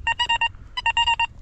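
A metal detector sounds its target signal while someone digs near an old inn site: two quick bursts of bright, stuttering electronic tones separated by a short gap, loud and close.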